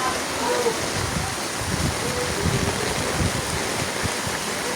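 Steady heavy rain pours down during a typhoon in Barangay Burabod, a dense continuous hiss of water with no breaks, fairly loud and close, with no voices over it.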